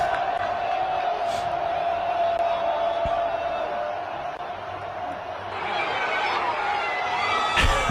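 A large crowd roars and cheers at a match featuring huge players, a sustained dense wash of voices with whoops and shouts rising near the end.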